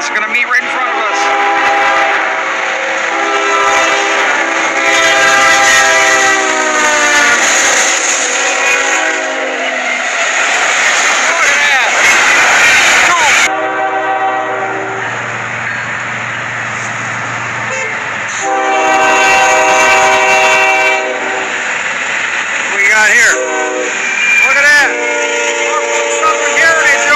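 A train with a Southern heritage-unit locomotive rumbles past while its horn blares in long, loud blasts, pausing and sounding again; people talk briefly in between.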